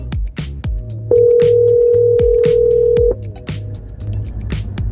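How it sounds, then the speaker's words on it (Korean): A steady electronic phone call ringing tone, placed to an iPhone, holds for about two seconds, loud and close, with fainter pulsing beeps before and after. "이장님의 아이폰으로 전화 거는 중."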